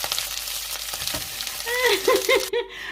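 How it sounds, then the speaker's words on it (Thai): Boiled potatoes sizzle in a hot pan while being stirred and scraped around, with quiet background noise. "มันที่ต้มสุกแล้วค่ะ ก็เอามาผัดคนกันแบบนี้แหละค่ะ"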